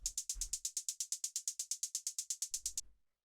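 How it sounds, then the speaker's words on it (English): A synth hi-hat made from white noise through a bandpass filter in Operator ticks out straight sixteenth notes, a crisp, even run of short bright hits that stops after about three seconds. "Next thing that we have here is a synth hi-hat"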